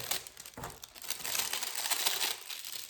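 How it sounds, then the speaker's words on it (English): A plastic bag around a bar of activated charcoal cold process facial soap is pressed down in a bag sealer, giving soft continuous crinkling close by, quiet and alone. "So I'm going to take it back into the bag sealer. And I'm going to press that down. To seal that so I can cut it off."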